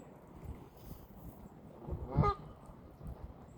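A goose on a pond gives a single loud, close honk midway, set against a quiet outdoor background with soft low rumbling and no voices.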